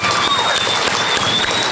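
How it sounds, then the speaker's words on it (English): A school awards-night crowd gives a loud, close round of applause for the staff, with dense continuous clapping and a faint whistle-like tone above it. "If we can give them a round of applause."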